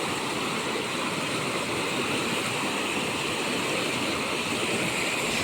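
Water rushes beneath a railway bridge in hilly countryside, a continuous, full-bodied stream roar that holds steady and close from start to finish with no talking.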